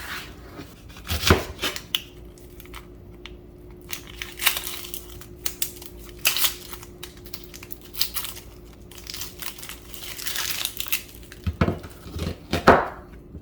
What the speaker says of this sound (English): First, cut 1 onion into quarters.